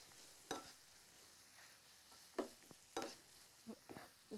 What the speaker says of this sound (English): They'll be frying just for a few minutes.